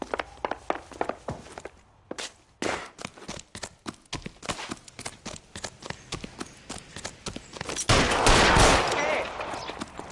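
A rapid volley of gunshots in the 1940s Los Angeles detective game LA Noire, with a string of sharp cracks going off one after another over background noise, ending in a longer noisy burst.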